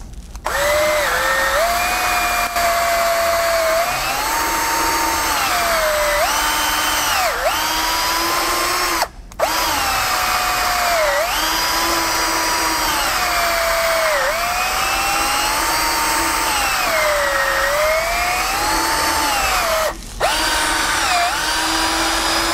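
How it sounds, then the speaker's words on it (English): A power drill whines steadily while drilling out a tool handle, its pitch dipping and rising as it bites under load, loud and close, with two brief stops. "So let's get to drilling this one out"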